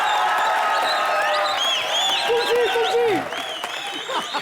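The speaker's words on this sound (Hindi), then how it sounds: "जोरदार तालियां ठोकर रहे" A TV comedy show's studio audience claps loudly and continuously, with whistles and cheers rising over the applause, slightly easing toward the end.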